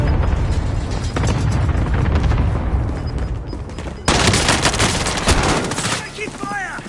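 Loud, continuous automatic gunfire rattles in a video game, dense bursts with mechanical clatter throughout and a brief voice near the end.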